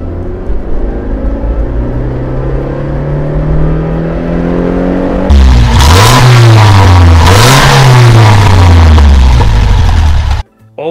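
A classic car's engine idles with a steady low drone, then is revved hard twice in quick succession, the pitch climbing and falling loudly up close before cutting off abruptly.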